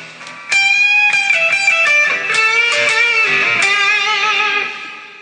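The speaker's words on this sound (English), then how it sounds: "I play my guitar." An electric guitar with distortion plays a freestyle lick from a Journey cover, single notes and short phrases ringing close and loud, unaccompanied.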